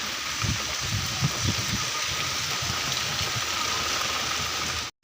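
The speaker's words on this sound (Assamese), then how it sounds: "চাওক তো বৰষুণ পৰি আছে" Steady rain falling beside a wetland outdoors, a continuous even hiss with faint low patter, holding level throughout before a brief dropout near the end.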